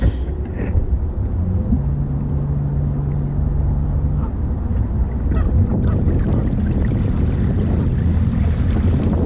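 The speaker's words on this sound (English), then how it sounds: "All right, get on the motor, see if we can find them." The motor of a motorized kayak hums steadily on cold spring water, a low continuous drone with wind noise over it throughout.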